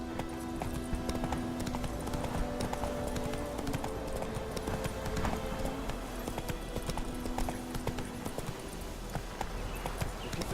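Horse hooves clip-clop steadily in The Witcher 3: Wild Hunt, a continuous walking rhythm over game music and ambience, fairly close and even in level throughout.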